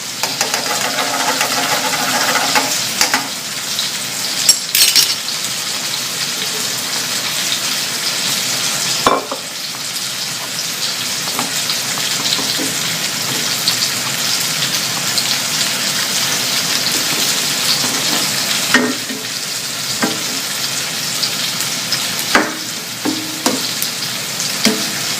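T-bone steak and vegetables stir fry with oyster sauce in a hot pan, a loud continuous sizzle with scattered scraping and clanking stirring hits throughout, close up and without talk.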